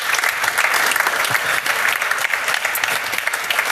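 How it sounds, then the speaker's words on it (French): An audience at a startup pitch event applauds, with dense, sustained clapping from a sizeable crowd filling the room at a steady level throughout. "Merci beaucoup Emmanuel Briard, on peut l'applaudir"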